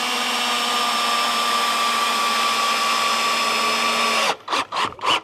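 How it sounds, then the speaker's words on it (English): A power drill drives a screw at an angle into a hive stand board without a pilot hole, a loud continuous whine that then breaks into three short bursts. "I'm going to toenail it basically right down here, through here and into here."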